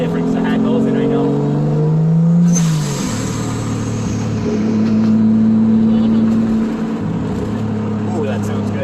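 A turbocharged Toyota MA70 Supra engine runs at about 7 PSI boost, a loud, deep droning exhaust that rises and falls with throttle changes, rumbling close and continuously.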